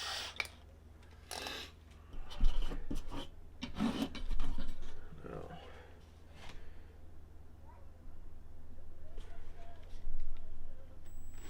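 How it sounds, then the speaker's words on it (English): Plastic body shell for an SCX24 RC crawler being trimmed by hand, giving intermittent scraping and rasping bursts close by, with quieter stretches between cuts and no talking. "I'm gonna trim out some stuff on the BA body that needs to be trimmed out"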